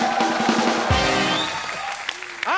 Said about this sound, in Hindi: सो आप सबकी जोरदार तालियों के बीच मैं इनवाइट करना चाहूंगा बॉलीवुड की हसीना, द ब्यूटीफुल रेविशिंग रवीना।